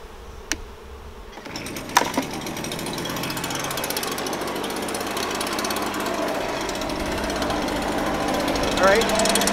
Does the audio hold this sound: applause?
no